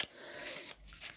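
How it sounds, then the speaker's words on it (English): Playing cards slide off the bottom of a deck during a shuffle, giving a close, papery swish and a soft scrape, brief and alone. "I'm going to slide the cards off of the bottom."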